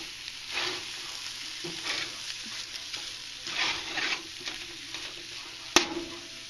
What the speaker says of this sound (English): now I am stirring around the meatballs